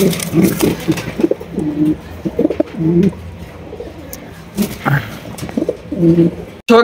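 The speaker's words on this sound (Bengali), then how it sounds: "এখানে রয়েছে এক জোড়া বিউটি ব্লু বার বিউটি কবুতর" A pair of Blue Bar Beauty pigeons coo in repeated soft, throaty phrases separated by short pauses, close by, with faint background noise between calls.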